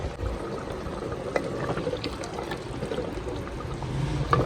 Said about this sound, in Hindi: और इसकी बनाई शुरू करते हैं